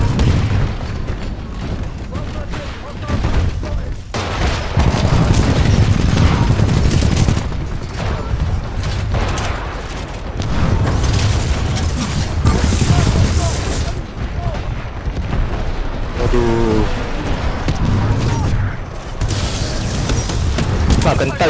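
Gunfire in an Attack on Titan video game, with loud, dense bursts of shots and heavy booms rolling continuously through a busy battle mix that also carries voices.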